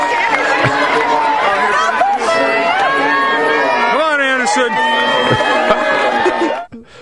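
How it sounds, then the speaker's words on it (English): A lively crowd cheers and chatters for a contest winner nicknamed Anderson Pooper, a dense, steady wall of voices with shouts rising and falling before cutting off near the end. "So the crowd is cheering on the winner."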